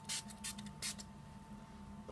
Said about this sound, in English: you just want to finish up with some setting spray and you're done